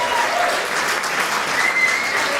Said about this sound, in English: a nice round of applause, ladies and gentlemen